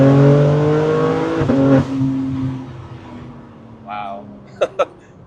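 BMW M3 G80 xDrive pulling hard in first gear, engine note climbing loud and close for under two seconds before the revs drop away, followed by quieter road noise and a couple of sharp clicks.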